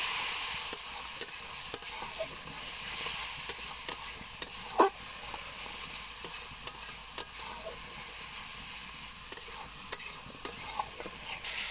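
Spice paste with turmeric powder being fried and stirred in a pan for a light fish and vegetable curry, a soft continuous sizzle broken by frequent sharp scrapes and taps of the spoon, no talking.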